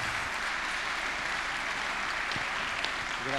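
Applause at a Confindustria Como dinner as the president comes on stage: steady, fairly soft clapping from a seated crowd, heard at a distance and continuing evenly throughout.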